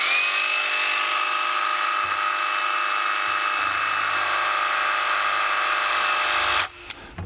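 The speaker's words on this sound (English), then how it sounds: "I'm going to take my jigsaw and make this other cut." Jigsaw cutting a SwissTrax plastic garage floor tile, a steady loud motor whine with a high buzzing tone running nearly continuously, then cutting off abruptly near the end.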